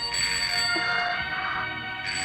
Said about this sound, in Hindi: टेलीफोन की घंटी बज गई